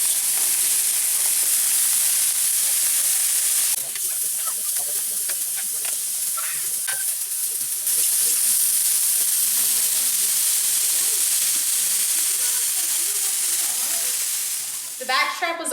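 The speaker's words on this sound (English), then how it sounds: "Alright, our grill's nice and hot. You want it very hot to give it a nice sear." Venison backstrap sears on a very hot grill, a steady loud sizzle and hiss running throughout with brief clatters of handling partway through.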